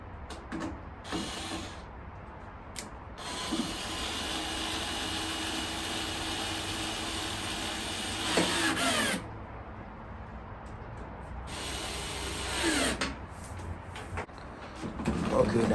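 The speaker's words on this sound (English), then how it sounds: "then we're going to come with the electric screwdriver to finish the job" An electric screwdriver whirs in a few short bursts and one longer run, close by, tightening screws on a GE gas dryer, with steady machine hum and clatter between them.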